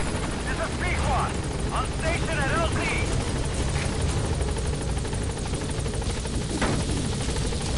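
A helicopter's steady rotor and engine drone hums throughout the Metal Gear Solid V video game, holding a constant level under ongoing talk.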